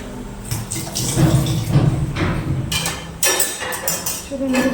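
Water poured onto potted plants at home, a steady splashing trickle lasting the whole stretch, with brief clattering knocks partway through.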